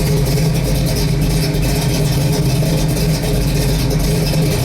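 A 1971 Chevrolet Heavy Chevy engine idles loud and close, with a steady low rumble and a constant throbbing pulse that stays even for the whole stretch and has no voices over it.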